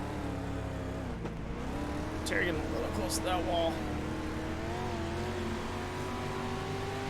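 A street stock race car on a dirt oval drones with a steady engine note and rising revs while other cars roar past; a commentator talks over it throughout.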